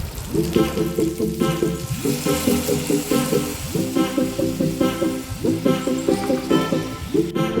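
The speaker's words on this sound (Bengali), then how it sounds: "মাছগুলো মশলার সাথে ভালো করে কষানো হয়ে গেছিলো তারপর আমি যে গুঁড়ো দুধটা ছিল সেটা ঢেলে দিয়েছিলাম" Fish cooks with spices in a pan after powdered milk is poured in, making a continuous bubbling sizzle under a looping rhythmic backing track.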